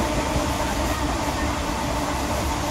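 Moving train heard from inside a carriage, a steady, loud rumbling roar that continues without break, with no talk over it.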